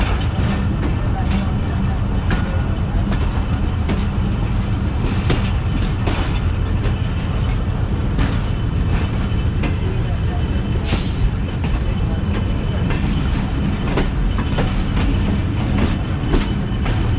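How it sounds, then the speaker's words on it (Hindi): A business class passenger train travelling from Lodhran toward Karachi, clattering steadily over track changes with a loud, continuous rumble and repeated clicking wheel impacts heard from inside the carriage, with faint voices underneath. "ट्रेन में ट्रैक चेंज आ रहे हैं।"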